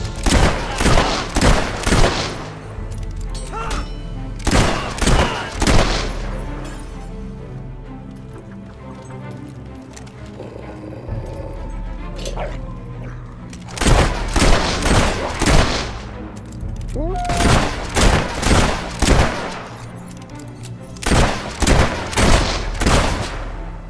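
Bursts of gunfire from the video game Fable 3, loud clustered volleys of rapid shots near the start and again toward the end, with a quieter stretch of background game sound and hoofbeat-like clatter between them.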